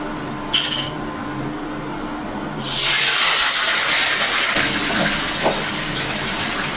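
Water splashes into hot oil ahead of the spices for a tangra fish curry with potato and tomato, setting off a sudden, loud, sustained hiss after a quiet start.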